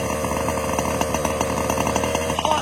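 A small engine that had been running lean and bogging idles steadily while warming up, giving a continuous near buzzing drone with slight flutters and no voices.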